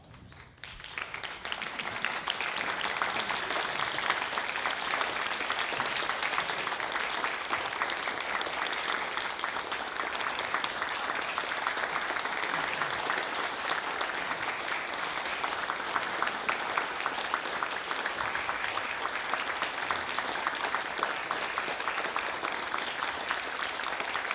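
A large hall audience at the closing and awards of an intercollegiate English oratorical contest breaks into sustained, dense applause, steady and loud from start to finish with no talk over it.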